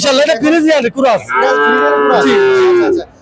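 A cow at a cattle market lets out a loud, close moo in two long, drawn-out calls, the second sustained for well over a second.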